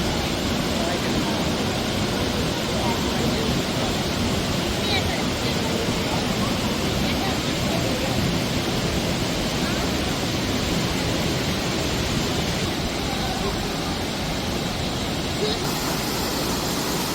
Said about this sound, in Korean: 폭포가 정말 멋지게 떨어지고 있어요.